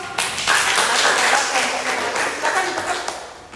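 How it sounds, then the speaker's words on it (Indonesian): Students clapping in a classroom after a presentation, a dense burst of applause lasting a few seconds, loud and close, with some voices mixed in. "Sudah ya, beri aplaus."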